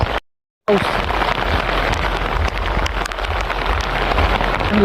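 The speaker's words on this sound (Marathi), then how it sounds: "जोरदार पाऊस आलेला आहे." Heavy rain pours down steadily on a farm during fertilizer application and sowing, a dense, constant wash of drops with no voices, broken only by a brief dropout near the start.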